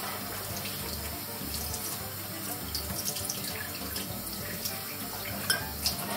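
Tap water runs steadily into a kitchen sink while dishes are rinsed, a continuous close splashing flow with faint clinks of crockery and no talking.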